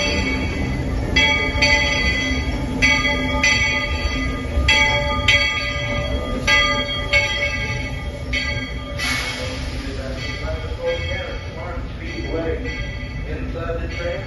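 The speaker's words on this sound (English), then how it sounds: "we're going to walk around Magic Kingdom in the way that Walt intended, which is via the railroad. So it should be here in just a few moments" A Magic Kingdom railroad train pulls into its station with repeated bell-like clangs and rail rumble over a busy crowd, while people talk nearby.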